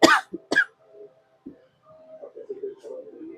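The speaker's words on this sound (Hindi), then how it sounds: "तड़का लगाया ना तो उसका झाग आ रहा है, खांसी आ रही है।" A couple of sharp, harsh coughs up close, brought on by frothing fumes from a hot dal tempering, followed by a throat-clearing sound and then quieter murmuring.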